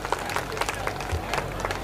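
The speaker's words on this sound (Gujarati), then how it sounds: "તાળીઓ થઈ જાય એમના માટે." A crowd at a village mass wedding in Santej gives a brief patter of scattered clapping for a guest, moderately loud and close, with voices mixed in.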